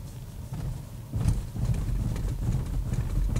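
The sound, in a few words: Volvo S60 T8 driving over road studs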